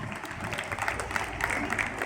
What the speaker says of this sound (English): Welcome our principal with a huge round of applause